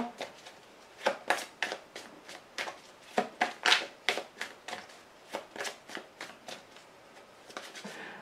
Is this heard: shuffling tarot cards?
yes